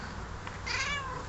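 A house cat gives a single clear meow partway through, fairly close and fairly quiet, with a soft indoor room background and no talking.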